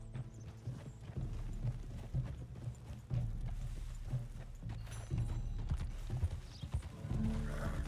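Steady clip-clop of horse hooves at a walking pace in Red Dead Redemption 2, close and continuous, with a faint whinny and game-like ambience underneath.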